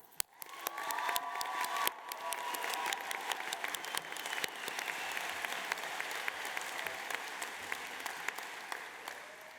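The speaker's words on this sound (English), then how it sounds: "join me in a round of applause for our staff" An audience at a 2023 university fashion-school graduation ceremony claps for the staff, dense, sustained applause filling the hall with a few cheers, steady and loud from start to finish.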